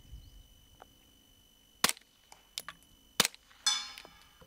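Suppressed Glock 19 pistol fitted with an Obsidian 9 suppressor fires two sharp, loud shots about a second and a half apart at a steel plate, followed by a brighter ringing crack with a short decaying tail.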